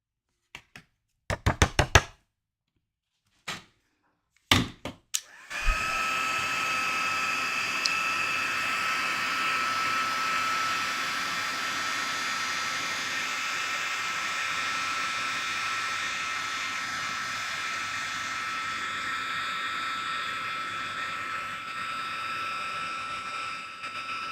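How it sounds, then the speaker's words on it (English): A heat tool used for white heat embossing a card starts after several sharp knocks and taps, then runs as a steady, close, loud blowing whine for nearly twenty seconds. "Again, I'm going to white heat emboss it."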